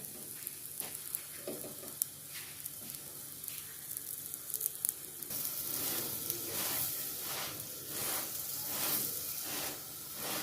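Square layered paratha fries in butter on a hot pan, a steady close sizzle that swells louder and denser halfway through, with faint crackles and no voices.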